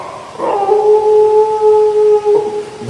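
A voice imitates a distant dog howling, a single long, drawn-out wavering howl that rises and then holds, loud and alone.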